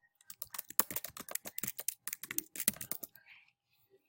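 Rapid keystrokes on a computer keyboard while a name is entered into a document heading, a dense irregular run of close clicky taps that trails off into a few isolated presses.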